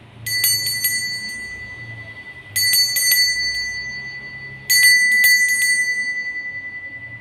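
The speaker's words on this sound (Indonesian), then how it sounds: "kita akan memulai dengan ditandai lonceng berbunyi" A bright bell rings in three clusters of quick strikes, each burst ringing out and fading before the next, clear and close.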